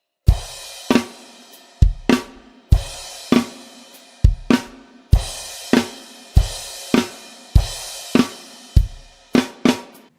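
A drum kit plays a steady rock beat from a song, sharp cymbal-laden hits ringing out in a regular rhythm, loud and close with no voices.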